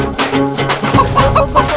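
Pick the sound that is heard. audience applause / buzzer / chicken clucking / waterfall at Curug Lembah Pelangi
chicken clucking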